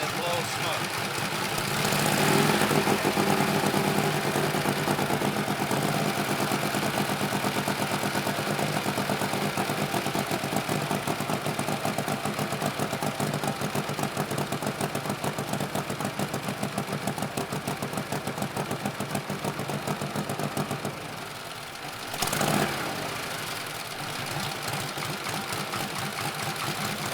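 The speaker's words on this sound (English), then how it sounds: "How often do you get a motorcycle to start up on the first kick after sitting for 3 or 4 or 5 years?" A 1948 Harley-Davidson Panhead motorcycle engine idles steadily after a first-kick start following years of storage. It gives a continuous loping rumble with a brief dip and a sharp burst near the end, and voices talk over it.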